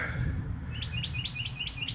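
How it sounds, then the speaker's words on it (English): Birds chirp outdoors in a rapid, repeated series of bright tweets over a low background rumble, fairly close and clear, with no talking. "Excuse the birds and stuff"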